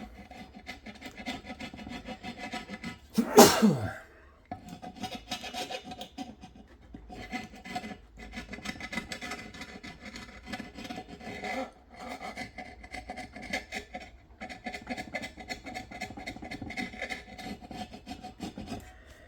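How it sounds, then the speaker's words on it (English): Sandpaper being rubbed over a mitre saw to scrub off grime, a faint, steady rasping and scratching that continues throughout with one louder scrape near the start. "I have used a slightly harder abrasive in the form of a little bit of sandpaper. But I needed to get this stuff off."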